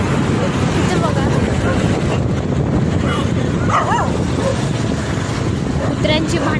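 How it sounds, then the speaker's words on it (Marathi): Street dogs fighting on a town road, with close, loud overlapping barks, yips and whimpers over constant traffic noise. "कुत्र्यांची भांडणं झाली."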